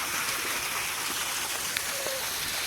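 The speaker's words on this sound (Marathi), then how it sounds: "पूर्ण पाऊस पाऊस एवढा पडतोय ना भरपूर भरपूर" Heavy rain falls in a dense, steady hiss, a constant wash of drops on surfaces with no pauses.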